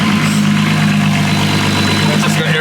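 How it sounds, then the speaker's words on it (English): A turbocharged VR6 engine in a VW Golf R32 idles with a steady, even low rumble and hum that holds throughout at close range. "Are you able to give us a quick rundown on what engine this is, Stu?"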